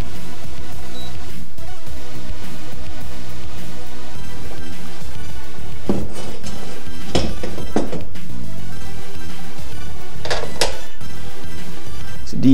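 Motorcycle radiator guards from a 500 two-stroke supermoto being handled on a bench, giving loud metallic clinks, rattles and knocks in uneven bursts, with a few sharp clanks near the end.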